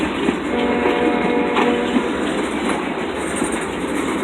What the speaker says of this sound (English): This train is Wapo,